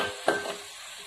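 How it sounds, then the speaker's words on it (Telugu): Onion paste hitting hot oil for a fish curry gives a brief close sizzle with a stirring scrape, a quick burst that fades into a soft hiss. "ఉల్లిపాయ పేస్ట్ వేసి వేయించుకుందాం"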